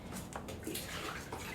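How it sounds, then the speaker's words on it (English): Water poured from a cup onto soil-filled plant pots in a greenhouse, a close, continuous splashing and trickling with a few brief drips, no voices. "I just pour the water on top of the pots"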